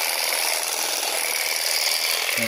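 Cordless Procraft conifer shears trim grass, a close, steady, high-pitched buzzing chatter of the cutting blades, running continuously with no voices.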